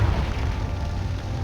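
Confringo explosion spell cast in the video game Hogwarts Legacy, a short booming burst with a rumbling low-end tail, loud and alone.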